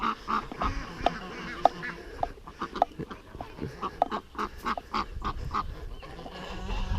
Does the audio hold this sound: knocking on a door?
no